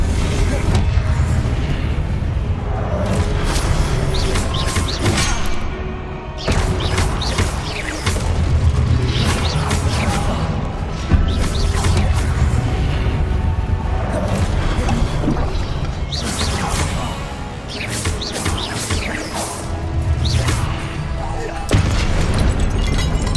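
Spell explosions from Confringo casts in Hogwarts Legacy, booming and crashing repeatedly through a dense, loud game soundscape with steady background noise and effects throughout.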